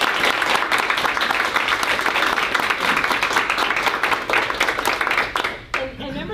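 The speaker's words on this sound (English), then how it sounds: "You've got to let us give you a round of applause" Round of applause from an audience, dense steady clapping throughout that tapers off near the end, with voices mixed in.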